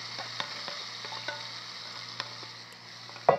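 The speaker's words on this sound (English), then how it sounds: "So we added our veggies to the pan" Vegetables frying in a pan for Jamaican brown stew chicken give a steady, close sizzle with light stirring clicks and a louder scrape near the end.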